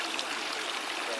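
Water poured from a ladle for hand washing at a Japanese purification basin in Hakone, a steady close splashing trickle heard alone for a brief moment.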